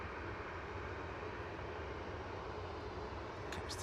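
A Turkish Airlines jet arriving at Manchester Airport gives a steady, broad engine roar that holds at an even level throughout, with no voices over it.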